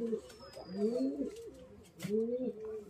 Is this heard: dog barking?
no